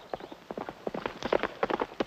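Hooves pound in a fast, uneven gallop as a runaway horse drags its rider in an early-1950s western radio drama, close and steadily growing louder.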